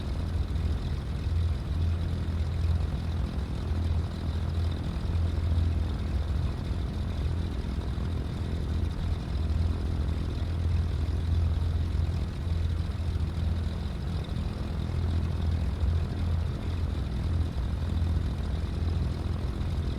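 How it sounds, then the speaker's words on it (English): A Cessna 310R twin-prop aircraft in a flight simulator game, its engines holding a steady, loud low drone during takeoff that stays even throughout with no talk. "We're gonna do a right turnout, taking off runway 32."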